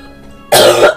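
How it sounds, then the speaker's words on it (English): One sharp, loud cough bursts out close to the microphone after a half second of quiet room tone. "I need to cough."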